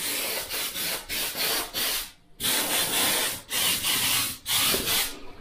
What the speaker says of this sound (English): So you can literally get your Scotch-Brite and run it through.